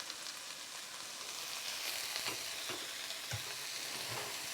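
Peppers sizzle in a hot frying pan as they are stirred, giving a soft continuous hiss broken by a few louder scraping and crackling bursts, with no voices.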